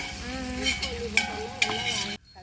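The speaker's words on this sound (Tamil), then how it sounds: "வெங்காயம் வெங்காயம் நல்லா வதங்கிடுச்சு" Onions, ginger paste and green chillies sauteing in a pan for a large batch of chicken gravy: a steady close sizzle with a few sharp scrapes of a stirring spoon, ending abruptly.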